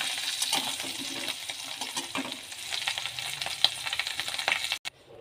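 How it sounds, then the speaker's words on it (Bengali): Prawns sizzle in hot oil in a wok, a continuous crackling fry with occasional sharp pops and light stirring scrapes, then a brief break near the end. "এই চিংড়ি মাছগুলো ভাজতে দিয়েছি।"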